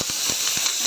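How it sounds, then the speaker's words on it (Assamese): A pressure cooker cooking rice lets out a continuous loud hissing whistle of escaping steam, steady and close throughout the short moment. "এফালে ভাত চিটি মাৰিছে"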